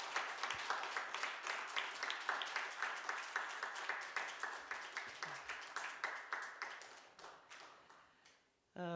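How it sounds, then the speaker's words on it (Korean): A church congregation at a Korean revival meeting claps in steady unison to welcome a pastor, the rhythmic applause holding strong for several seconds before tapering off. "나오실 때 크게 박수해 주시고요"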